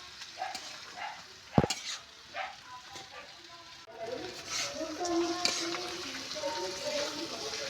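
Fish and bitter gourd frying and being stirred in a pan during curry cooking, a soft crackling sizzle with scraping stir strokes and one sharp knock, close and moderately loud, no talk.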